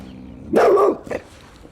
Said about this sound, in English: Sarah the Boxer is a recent rescue, and dog aggressive to boot